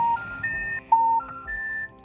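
Telephone number being dialed, a quick run of distinct keypad tones, each a short steady beep, heard close and clear with no talking.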